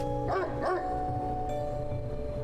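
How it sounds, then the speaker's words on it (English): A dog in the horror game Spirit Hunter: NG gives two quick barks in close succession near the start, over a steady low musical drone that continues afterward. "the dog was barking at someone behind him"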